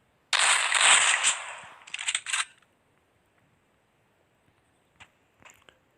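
Gunfire in a battle royale video game, heard as a dense burst of rapid shots lasting about two seconds, followed by quiet and a few faint isolated clicks.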